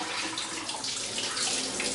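Steady stream of tap water running into a sink while a reel of 120 film is rinsed, a continuous close hiss and splash without a break or any talk.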